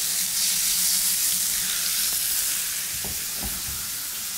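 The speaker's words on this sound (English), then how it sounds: "If it doesn't sizzle, your pan is cold." A steak sears in a hot pan with a steady, close frying hiss throughout, broken by a few short clinks or shifts near the end.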